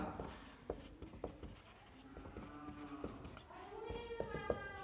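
Hand writing out a math equation, pen or chalk scratching in short strokes and taps, faint and close, with a voice talking softly in the background.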